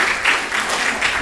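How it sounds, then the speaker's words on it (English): Audience at a live arts event applauding in a short burst of dense, steady clapping, fairly close and alone. "Give yourselves a big hand."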